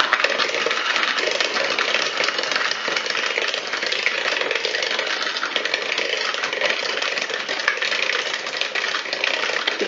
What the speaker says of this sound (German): da geben wir jetzt erstmal den Rohrzucker dazu. Und das verrühren wir jetzt erstmal.